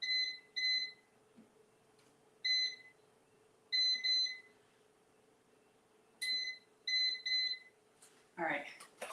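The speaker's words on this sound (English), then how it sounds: "I'll set the timer" Kitchen timer being set while cooking beef for a taco salad, sounding in short bright electronic beeps, single and paired chirps spaced irregularly over a low steady hum, close and fairly quiet.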